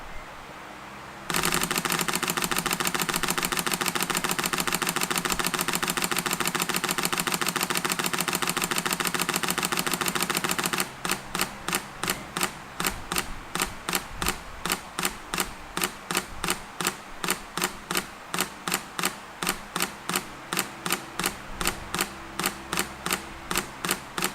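A Sony A6400 shutter fires in continuous burst at fine plus raw, a dense rapid rattle for about ten seconds that then slows into a steady series of separate clicks as the buffer fills, close and loud.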